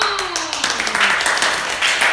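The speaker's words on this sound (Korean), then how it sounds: "박수!" Children and teachers in a Korean church class clap after an award announcement, a short busy patter of hands rising over a speaking voice that fades out as the clapping builds.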